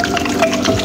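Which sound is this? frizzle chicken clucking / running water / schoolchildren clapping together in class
running water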